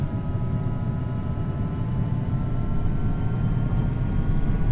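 Twin jet engines of a Challenger 300 business jet in the X-Plane flight simulator roar steadily as the throttles advance, a dense, constant low rumble with faint whine above, loud and close throughout with no talking.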